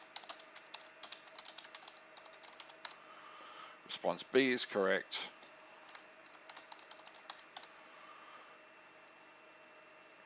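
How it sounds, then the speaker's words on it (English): Rapid computer keyboard typing, a steady run of light clicks that pauses briefly while someone speaks, then resumes at an even pace. "Changing those is just as easy as typing."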